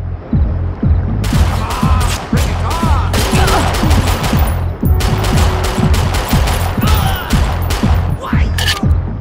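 Continuous rapid gunfire from the Xbox 360 video game Perfect Dark Zero, loud repeated bursts of close shots with booming impacts, near-constant over several seconds.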